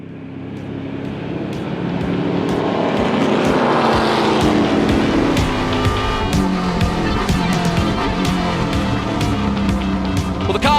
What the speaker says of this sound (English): the cars are out on the pace lap around the Brainerd circuit